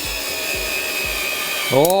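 A Bosch GO3 electric screwdriver drives a 38 mm screw into wood, giving a close, loud, steady motor whir with quick repeated ratcheting clicks, then a rising whine as the drive ends.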